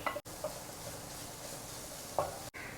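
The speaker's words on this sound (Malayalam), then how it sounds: "ശകലം പെരിഞ്ചീരകപ്പൊടി ഇതെല്ലാം കൂടെ നമുക്കൊന്ന് ഇളക്കിയെടുക്കാം" Cutlet mixture being stirred with fennel powder and coriander, soft scraping and mixing sounds close by with a couple of brief utensil clinks against the bowl, quiet and without talk.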